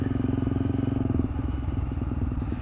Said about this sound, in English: CBF 250 Twister from Honda